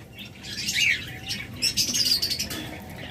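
A green opaline lovebird pair chirps and squawks close by, sharp high calls in quick clusters with faint rustling in between.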